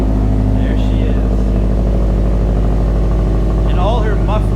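A cold Subaru STI engine with a muffler-delete exhaust idles loud and close in a deep, steady, throbbing rumble that continues throughout, with a voice heard briefly over it.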